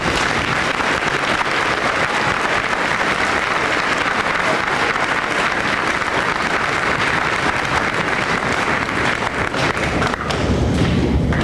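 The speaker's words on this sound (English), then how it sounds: "give a nice round of applause for all our..." A large audience at a high school honor awards assembly applauds steadily and loudly, with dense clapping that continues throughout.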